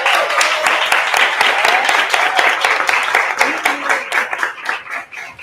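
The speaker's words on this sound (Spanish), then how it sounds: "un aplauso para todos," Audience applause at a festival talk, a dense burst of many hands clapping close and steady for several seconds, fading slightly toward the end.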